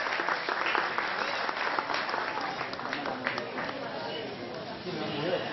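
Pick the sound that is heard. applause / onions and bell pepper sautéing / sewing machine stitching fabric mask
applause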